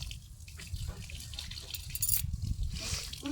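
Tap water running into a container at a household faucet, a continuous splashing flow heard at moderate distance with faint background voices.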